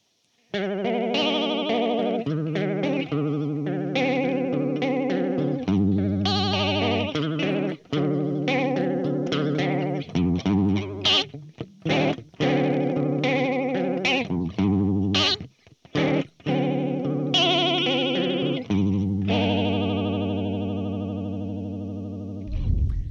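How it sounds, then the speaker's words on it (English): Electric guitar played through an exaggerated, warbling vibrato effect from a Hologram Electronics Chroma Console, pitch wobbling wildly over sustained and choppy notes, ending on a long wavering tone. "It has a great range of very usable vibrato to kind of over the top."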